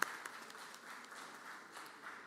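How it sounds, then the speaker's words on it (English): Brief applause rises from a gallery in the Mississippi Senate chamber. It is a soft, even patter of clapping from a small crowd at a moderate distance. "Y'all give him applause."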